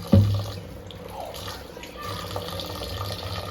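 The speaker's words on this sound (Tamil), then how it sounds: "அரிசி ஒரு 2-3 வாட்டி நல்லா கழுவிக்குவோங்க." Rice being washed in water in a home kitchen for chicken biryani, a brief loud knock at the start followed by soft sloshing and trickling water through the rest, no talking.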